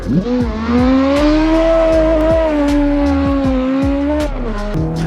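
Ferrari F430 engine in the racing game Assetto Corsa, a loud close revving wail that climbs and holds high through upshift dips, with tire squeal and gear-change breaks, no speech.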